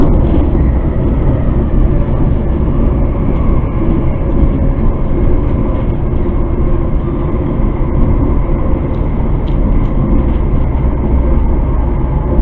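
A Class 385 AT200 train arrives with a loud, continuous rumble and roar, topped by a steady mechanical whine that holds for the whole stretch.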